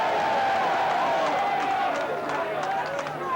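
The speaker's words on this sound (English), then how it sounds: "Sarcastic applause from the crowd as Mr. Shaw calls this one correctly." Scattered sarcastic applause from the crowd at a 1999 rugby league match between Keighley Cougars and Barrow, a steady distant wash of clapping under a talking voice.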